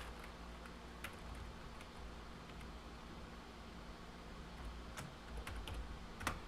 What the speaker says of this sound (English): I'm going to start typing in some commands here